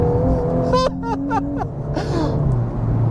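A 2021 VW Golf R Mk8 driven hard through corners, a loud steady roar of engine and road noise with short squealing tyre chirps rising and falling as it turns in.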